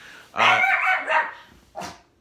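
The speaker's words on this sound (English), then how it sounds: "It's a bad time to be barking." A pet dog barks indoors: a loud, close bark followed by a second shorter bark, then a brief yip, standing alone without talk.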